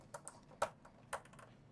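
Control buttons on a music keyboard pressed in a quiet music-store setting, giving four or five soft, separate clicks spread unevenly over a second and a half, with no voices.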